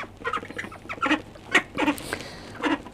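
Ducks quack at a garden gate, a run of loud, close, raspy calls in irregular bursts with brief pauses between.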